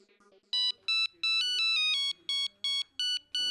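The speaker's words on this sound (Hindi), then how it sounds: "अरे रिंग जा रही है, फोन ही नहीं उठा रही है।" A phone rings with an electronic ringtone in a series of repeated tonal pulses, loud and clear, after brief faint speech at the start.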